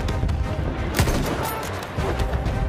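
Gunfire in Battlefield 1 gameplay: a dense, noisy battlefield mix with a sharp shot near one second and scattered bursts throughout, loud and continuous with no talking.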